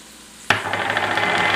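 Flour being stirred into shrimp sautéing in a pan for Chamorro kaddon uhang with coconut milk: a sudden scrape starts partway in, then a steady sizzling stir of the pan continues, close and fairly loud, with no talk.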